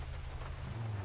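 Soft, steady hiss of rain falling in a video game, a faint continuous wash with low rumbling underneath, heard briefly with no talking.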